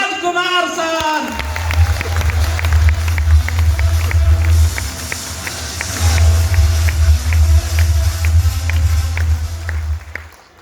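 Audience at a Safe Shop diamond leader event breaking into strong applause and cheering, a dense clapping crowd sustained for several seconds, with a brief lull midway, after a voice at the start.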